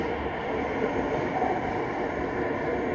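Airport terminal shuttle train bound for Terminal 5 at a London airport, a continuous low rumble and hum of a moving railcar heard from inside, steady and moderately loud throughout.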